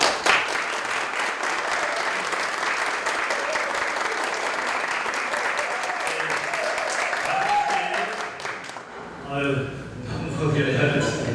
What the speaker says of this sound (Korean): 자, 뜨거운 박수.